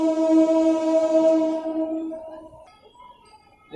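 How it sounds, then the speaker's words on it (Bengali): A slow freight train carrying oil passes nearby, its loud sustained horn blaring for about two seconds before fading into a low rumble. "মালবাহী ট্রেন এই কারণে স্লো যাচ্ছে আর কি।"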